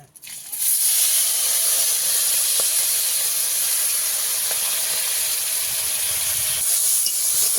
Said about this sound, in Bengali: তেলে আমি চিংড়ি মাছটাকে ভেজে নেব